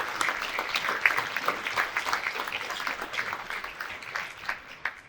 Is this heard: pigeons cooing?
no